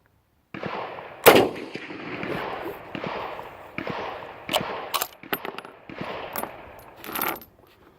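A .303 No.4 Mk1 British Enfield rifle fires one loud, sharp shot outdoors. Fainter pops and knocks follow over steady wind-like background noise.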